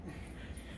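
A dog shut inside a case gives a short, faint whimper that sits low behind a soft background hum.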